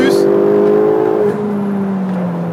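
A 2015 Ferrari 488 GTB engine revs high and then drops in pitch as it shifts up a gear, loud and close, with someone talking over it.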